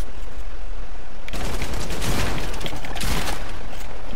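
Light machine gun in an online battle video game blazes away in sustained bursts, a dense continuous rattle that swells loud from about a second in and keeps pounding to the end, with no voices over it.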